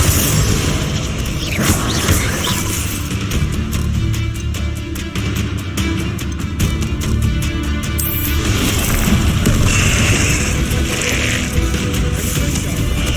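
Bombarda spell explosions in Hogwarts Legacy gameplay, dense booming blasts and crackling bursts layered over continuous loud game noise and music across the whole stretch.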